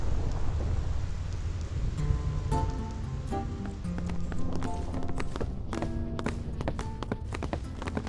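Thunderstorm ambience on the Thunder Plains in Final Fantasy X, a steady loud rumble with rain-like noise throughout, overlaid with game music tones and clicks, no speech.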